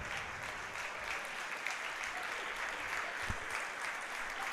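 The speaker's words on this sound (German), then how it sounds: "Und unter großem Applaus" A stadium crowd applauds during a substitution at a Regionalliga West football match between SG Wattenscheid and FC Schalke 04 U23, a continuous, even roar of distant clapping with no breaks.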